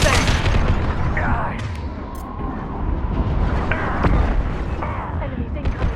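A flashbang grenade goes off in a Mass Effect 2 firefight: a heavy boom within dense, loud combat noise of shots and bursts, with voices calling out over the action.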